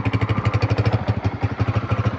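A motorcycle engine putters nearby in a fast, even rhythm of low thumping pulses, steady and unbroken.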